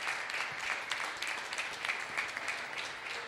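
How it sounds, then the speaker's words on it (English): Steady clapping from a crowd at an indoor soccer championship press conference, fairly distant and soft, continuing evenly for a few seconds. "Give him a round of applause."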